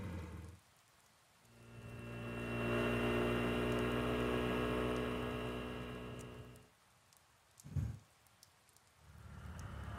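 Rain falls in the video game Persona 4 Golden, a broad steady hiss that swells in, holds for several seconds and fades, followed by a brief low thump and quieter rain.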